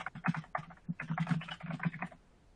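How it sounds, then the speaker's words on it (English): Typing on a computer keyboard: a quick, uneven run of soft key clicks and taps, close and fairly quiet, with brief pauses between bursts of keystrokes. "you just need to type in the name of this application"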